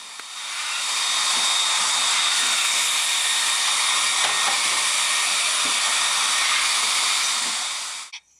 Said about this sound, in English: Whenever blow drying your bird, be sure to keep the blow dryer constantly moving